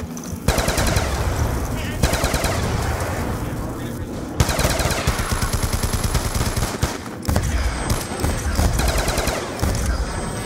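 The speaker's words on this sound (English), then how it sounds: "Are you just shooting windows?" Rapid gunfire in Black Ops 2 Zombies on the Town map, aimed at boarded windows: loud, dense automatic bursts roll almost continuously, broken by a few short gaps, with other game noises mixed underneath.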